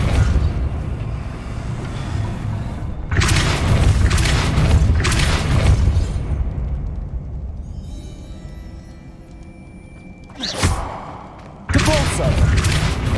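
Depulso force spell cast in Hogwarts Legacy: heavy booming thuds in separate loud bursts, with creaking mechanical rumble and quieter gaps between casts, with voices present.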